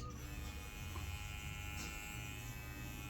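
Babolous FX2 Pro electric hair clippers run with a steady, quiet, low buzzing hum that stays faint and even for a few seconds, with no talking.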